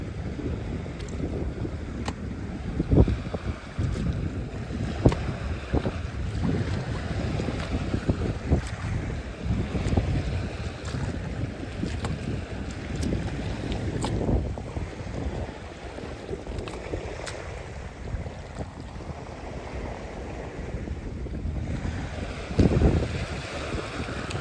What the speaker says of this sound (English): I'm trying to keep you out of the wind.